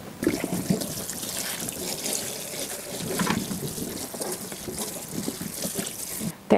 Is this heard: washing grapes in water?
yes